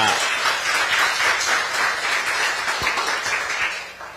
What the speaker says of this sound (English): can you please help me to give a big round of applause for these guys for the talk